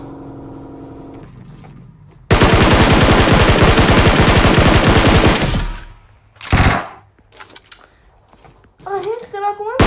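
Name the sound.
gunfire in PUBG Mobile video game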